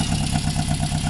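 A 1976 Honda CB750 motorcycle with a brand new Mac exhaust and electronic ignition idles loud and close, its four-cylinder engine throbbing in a steady, rapid pulsing rhythm.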